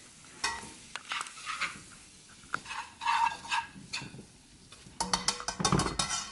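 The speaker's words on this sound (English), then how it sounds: "I'm going to whisk it up" Flour roux being whisked in a pot, with close, scratchy metal strokes and clinks against the pot in uneven bursts, growing quicker and busier toward the end.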